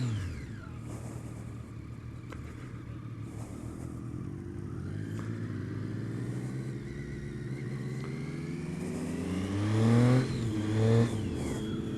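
A Triumph Street Triple motorcycle on a road ride, its engine droning steadily and then climbing in pitch as it revs up, with a louder surge near the end, no voices.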